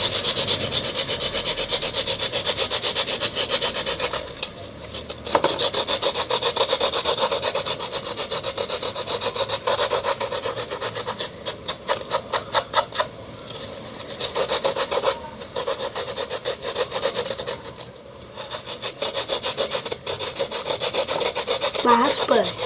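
Material being scraped by hand to make fake snow, a rasping, sanding-like rub repeated in steady rhythmic strokes, close and fairly loud, sometimes in quick short passes.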